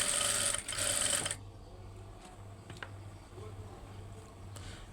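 A sewing machine runs fast and steady while stitching fabric, loud and close for over a second, then stops, leaving quiet handling noises and faint clicks.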